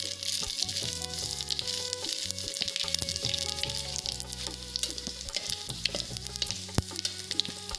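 Dry red chillies, bay leaves and panch phoron sizzle in hot oil for a Bengali pumpkin chhokka, a dense, steady frying hiss with scattered crackles and pops running throughout.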